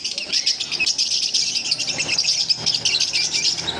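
Lutino Fischer's lovebirds chirping continuously, a dense busy chatter of many bright, rapid tweets and calls from a flock kept for sale, close and steady throughout with no talking.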